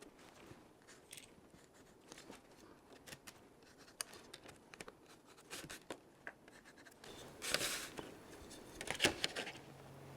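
Pencil drawing additional guide lines on the paper lower detail wrap for a 1/100 scale Estes Saturn V model rocket: soft, close scratchy strokes with scattered taps, brief louder rustles near the end.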